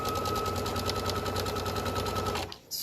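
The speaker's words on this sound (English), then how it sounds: "I'm just literally going to pop my nail just underneath and start stitching down." A sewing machine stitches down the hem of a tote bag, running close and loud in a fast, steady mechanical whir of rapid stitches, then stopping abruptly at the end.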